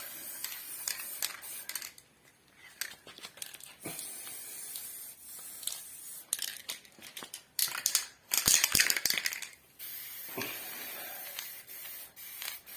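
An old aerosol spray paint can sprays in short, loud hissing bursts separated by pauses and a few rattles, with one longer spray near the middle.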